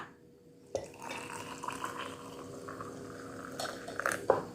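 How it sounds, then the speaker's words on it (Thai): Hot water poured into a cup of herbal drink made from Ya Hom 5 Chedi powder, a splashing trickle starting abruptly after a brief silence, with small clinks and drips toward the end. "แล้วเดี๋ยวเราก็มาเติมน้ำร้อนกันค่ะ"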